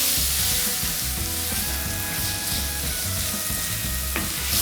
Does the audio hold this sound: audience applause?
no